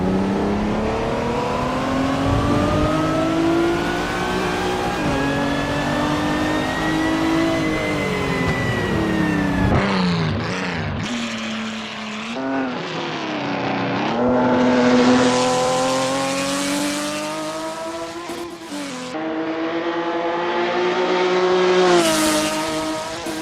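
A Ferrari 275 race car engine revs hard through a racing game around Paris, with a loud, sustained high-pitched drone that rises and falls with gear changes, plus sharp lift-off dips and renewed acceleration.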